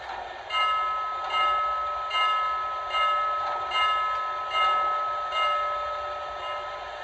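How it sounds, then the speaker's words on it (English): A Lionel TMCC model of the N&W 611 J Class steam locomotive rings its bell steadily in repeated electronic dings, about one every three-quarters of a second, over a low background hum. "Here's the bell."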